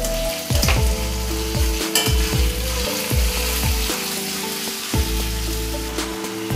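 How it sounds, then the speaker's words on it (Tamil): Tomatoes sizzle and crackle in a pan with onions while being sautéed, with a spatula scraping and tapping against the pan in repeated close strokes over a steady frying hiss. "இப்போ தக்காளியை வதக்கிக்கலாம்."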